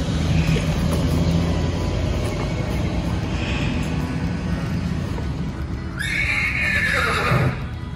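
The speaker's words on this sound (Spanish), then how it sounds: "ya nos montamos los caballos" Horses neigh and whinny on a ranch, one loud whinny rising then falling near the end over a steady background of hoof and outdoor noise, no talking.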